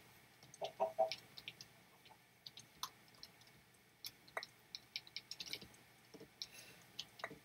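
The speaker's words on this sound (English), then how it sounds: "Right, chickens." Minecraft chickens cluck faintly in a quiet game scene, a scattering of soft, short clucks and clicks spread across the stretch with no talk over them.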